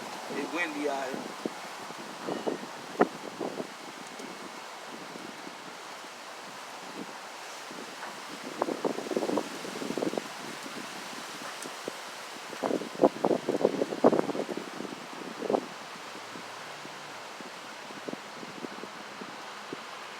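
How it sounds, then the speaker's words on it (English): Gusty wind blows outdoors, a steady buffeting rush with rustling bursts and microphone rumble, loudest in gusts partway through, under a man's intermittent speech. "So out here, it's windy out here."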